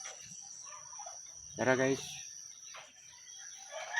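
Farm ducks and turkeys give one short, harsh, nasal call near the middle, close by, with a person talking before and after it.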